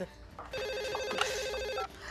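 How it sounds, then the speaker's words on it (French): A telephone rings in a hair salon, a steady electronic warbling trill sounding for over a second above a busy background hum, fairly faint and at mid distance. "Vous l'entendez pas, le téléphone"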